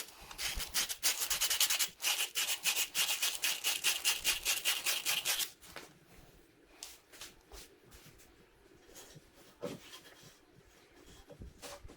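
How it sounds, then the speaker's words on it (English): 120 and 240 grit emery cloth rubbed back and forth against a clutch bearing fit in fast, even strokes, close and loud, then slower, fainter scrubbing with scattered knocks. "This is 120 grit emery cloth and 240."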